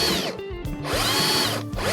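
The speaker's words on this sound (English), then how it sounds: "Pilot drill this one as well." A power drill whines up in short bursts, revving and dropping twice as it pilot-drills a screw hole through a carpeted part of a camper van close by, with no talking.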